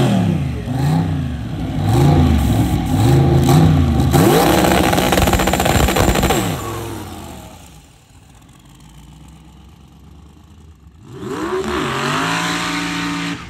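A built twin-turbo LS engine in a sand drag truck revs hard and loud in repeated rising bursts, drops to a low rumble for a few seconds, then revs up again.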